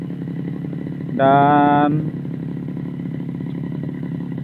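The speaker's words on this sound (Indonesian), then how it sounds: "Itu sementara saya panasi mesinnya." Tiger brush cutter engine warming up after weeks unused, idling steadily beside a hut on an oil palm plantation, with a short louder rev mid-way and someone speaking over it.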